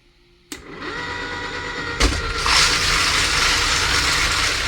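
A Frankford Arsenal Rotary Tumbler Lite switches on with a click and runs with a steady, loud whirring motor drone and churning rush, close by and without any talk.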